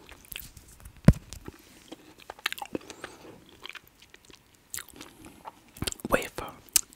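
Crunchy vegan KitKat wafer bar being bitten and chewed up close, with a sharp bite near the start and further crisp crunches and chewing sounds scattered through, quiet and intimate with no talking.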